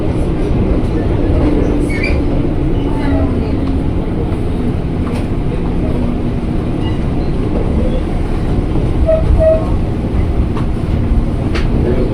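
Steady rumble of a KRL electric commuter train bound for Depok in motion, heard from inside the carriage, with faint rattles and occasional light squeals throughout.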